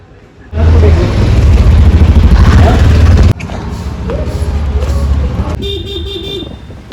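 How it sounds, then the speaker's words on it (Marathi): An auto rickshaw pulls up amid street traffic, with loud engine rumble, passing vehicles and a short horn toot, while voices are heard nearby. "हे बघा, समोर दिसते रिक्षा येत आहे आमची"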